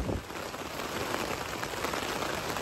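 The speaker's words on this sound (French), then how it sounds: "La tente qui bouge, le vent, la pluie." Rain patters steadily on a camping tent, a dense, even hiss of drops close by with no pauses, wind faintly mixed in throughout.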